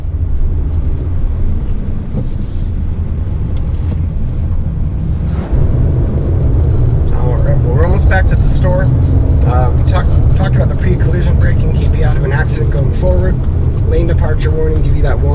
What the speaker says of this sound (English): just a really smooth ride considering I'm driving on dirt and gravel right now.